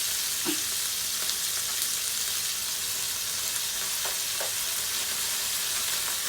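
Pork sizzling and frying in a hot pan, a steady crackling hiss with occasional pops and stirring, close up and continuous.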